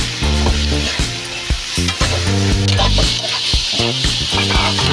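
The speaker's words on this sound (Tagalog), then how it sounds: "gisa lang natin hanggang sa mag-brown konti yung ating karne" Meat and pork fat sautéing together in a pan for batchoy, a loud, steady sizzle with rhythmic clanks and scrapes of a utensil stirring throughout, all close up, with no talking.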